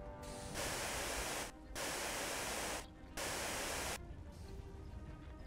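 A fire extinguisher sprays in the survival game Rodina, aimed at the ground to contain a fire: three long, steady hissing bursts separated by brief pauses, close and fairly loud, then a quieter tail.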